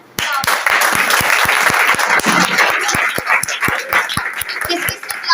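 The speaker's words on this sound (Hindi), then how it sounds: "तालियां" Enthusiastic audience applause at a night prayer gathering, loud, sustained clapping with sharp individual claps, rising quickly and continuing for several seconds before tapering off.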